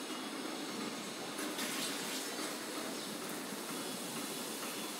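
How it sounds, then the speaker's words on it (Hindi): Water runs steadily, pouring into an already full glass and spilling over its rim in a soft, continuous trickle and splash heard close up, with no talking. "मैं इसको थोड़ा सा भी टिल्ट करता हूं तो पानी गिर रहा है"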